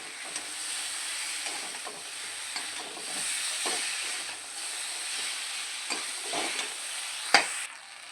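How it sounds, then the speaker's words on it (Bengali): Drumsticks frying in mustard paste in a pan, with a continuous moderate sizzle and repeated spatula scrapes and stirs, one sharper knock near the end, and no voices. "এটা খুব ভালো করে ভাজা ভাজা করে নিয়েছি।"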